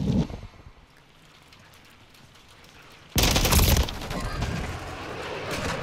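Gunfire in a Call of Duty Modern Warfare III multiplayer match: a sharp opening shot, a quieter stretch, then a sudden loud burst of rapid automatic fire followed by continued crackling shots and rattling noise.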